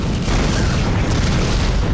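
A deep, heavy explosion rumbles through the Dead Space game, a sustained loud boom filling the full two seconds with dense low-end roar and crackling debris, no voices over it.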